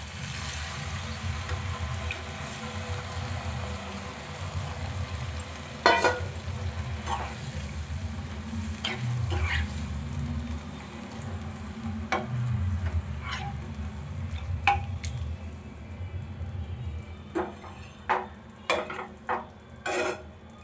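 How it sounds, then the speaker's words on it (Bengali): Paneer with milk poured into well-fried spiced masala in a pan for paneer butter masala, a low steady sizzle with stirring scrapes and sharper clinks of the spoon against the pan toward the end. "মশলাটা আমি কষিয়ে নিয়েছি খুব ভালোভাবে। এবারে পনির সমেত দুধটা দিয়ে দেবো।"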